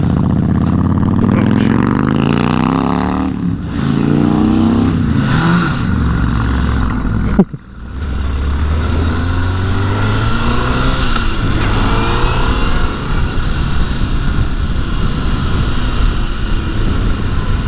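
A Honda CBR 1000 Repsol sport motorcycle engine revs hard and close, its pitch climbing through the gears with a brief drop at one shift, then pulling steadily again.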